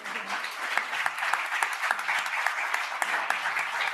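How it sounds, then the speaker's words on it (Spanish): An audience at an international tuberculosis conference round table applauds with steady, dense clapping from many hands, heard moderately far off and fairly quiet throughout. "merecen un aplauso"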